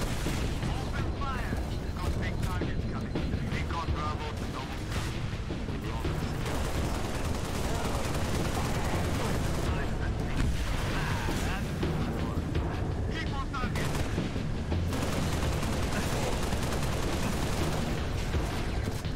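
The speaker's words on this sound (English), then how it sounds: "Is that the ship shooting me?" Sustained gunfire from an enemy ship in Halo Reach, dense rattling bursts and booms running almost continuously while a player talks over the battle.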